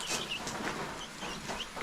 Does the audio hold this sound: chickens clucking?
yes